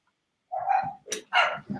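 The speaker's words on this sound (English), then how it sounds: "Can you hear all my dogs?" Dogs barking indoors: a few short, sharp barks and yips in quick succession, close and fairly loud against an otherwise silent background.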